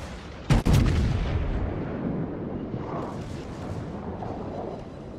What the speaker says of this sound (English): He's shooting his rear turrets right now.